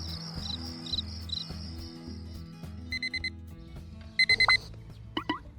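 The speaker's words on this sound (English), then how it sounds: "when the alarm clock rings, breaking the early morning silence, Lily immediately gets up." A bright electronic alarm clock rings in a repeating pattern of short, chirping bursts, clear and close over a gentle background music track in an early-morning household scene.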